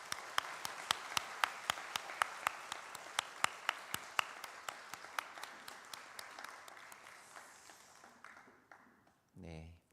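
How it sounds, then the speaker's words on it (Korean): A church congregation claps in welcome for a visiting pastor and his wife at a Sunday service. The claps start sharp and spaced, thin out and fade over several seconds, and a brief voice follows at the end. "우리 인사할 때 뜨거운 박수로 환영해 주시면 감사하겠습니다"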